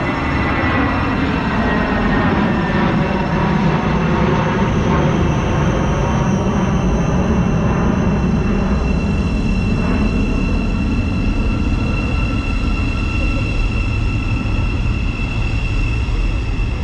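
A Thameslink Class 700 electric train slowly departs a Bedfordshire station platform for Brighton, a loud close rising electric motor whine and rumble that holds steadily throughout with no talking.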